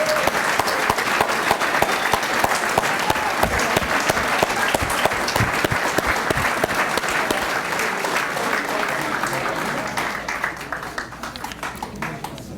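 Sustained applause from a seated crowd at a high school athletic Hall of Fame induction ceremony honors the 2024 inductees, with dense continuous clapping that fades slightly toward the end.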